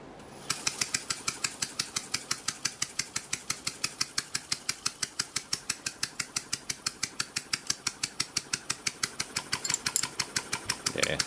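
Dismantled open scroll compressor running unbolted on a table, a rapid, even mechanical clatter of sharp repeated knocks at a steady rhythm, close and moderately loud, with no talk.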